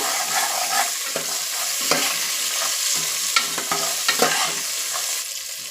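Green peas frying in oil in a pan, a steady close sizzle broken by repeated scraping stirs of a spoon.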